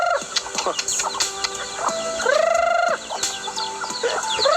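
Chickens and ducks cluck and squawk in scattered, overlapping calls as a farmyard flock is called, with one drawn-out crowing or honking cry in the middle.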